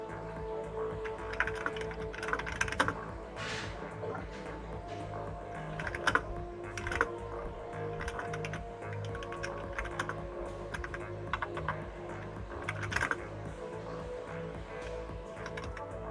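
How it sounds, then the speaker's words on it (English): Someone types fast on a computer keyboard. A dense, steady clatter of keystrokes runs without a break, with occasional louder taps, close up and with no talking over it. "you type fast, man. I can hear you typing."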